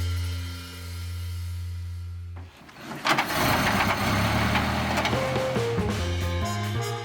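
A 1930 Ford Model A engine starts: a low steady hum first, then a sudden loud cranking catch as it fires up, settling into a rough, even idle that continues for several seconds.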